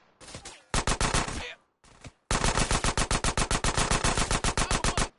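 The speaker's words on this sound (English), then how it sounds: "it's a gun." Rapid automatic gunfire in the video game Grand Theft Auto San Andreas: a short burst, a brief pause, a single shot, then a long sustained volley of loud, evenly spaced shots.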